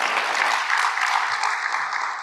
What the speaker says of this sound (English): One more round of applause for the Minister, please.